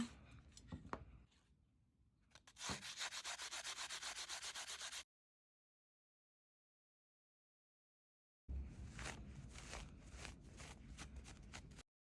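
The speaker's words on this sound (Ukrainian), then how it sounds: "я беру і застеляю такий мокрий рушник, якусь тряпку, і над нею буду шліфувати" Steady scratchy strokes of sandpaper rubbing against wood, near and continuous, broken by a few seconds of silence before the sanding resumes.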